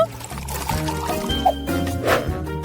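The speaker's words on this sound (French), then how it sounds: "Versons le lait dans le pot." Milk poured into a Nutella jar, a short splashy gurgle of liquid filling glass over a couple of seconds, close by, with some background sound mixed in.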